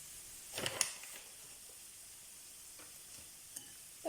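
Soft scraping and a faint sizzle as diced chicken is stirred in a frying pan, with quiet clinks of a utensil against the pan.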